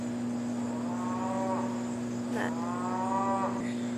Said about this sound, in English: Do you hear the cows?